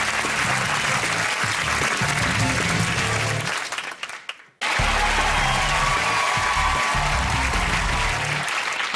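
Studio audience applauding at a TV comedy quiz show, loud sustained clapping with some cheering and music underneath, breaking off abruptly midway, then resuming just as loud.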